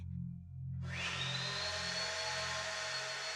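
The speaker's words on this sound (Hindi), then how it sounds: "वैक्यूम चला रहे हैं, वो भी इतनी देर रात को।" A low hum gives way to a vacuum cleaner switching on late at night, its motor whining up to a steady, loud drone that continues to the end.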